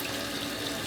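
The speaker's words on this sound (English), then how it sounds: "With cold water, I'm going to start rinsing out these skeins one at a time" Cold water runs steadily from a tap while wool skeins are rinsed one at a time in a sink, a continuous broadband splashing hiss with no talking.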